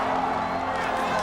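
A baseball stadium crowd cheers and roars after a run-scoring hit, a loud, steady wash of voices that fills the whole moment.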